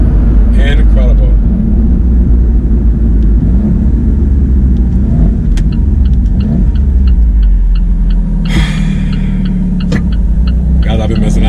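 Alfa Romeo 4C sports car driving, with a steady loud engine drone and road rumble from inside the cabin continuing throughout, and a person talking over it.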